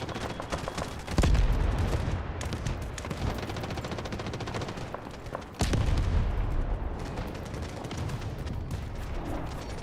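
A K437 assault rifle with a 60-round drum fires in the Delta Force video game, two long rapid-fire bursts of close, loud automatic shots with a sharp onset to each burst.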